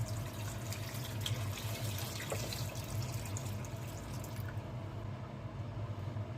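Steady stream of water pouring into a cooking pot for fish soup, a continuous rushing splash that cuts off near the end, no voices.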